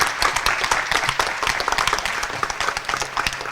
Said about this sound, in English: Can we get a round of applause for these amazing panelists?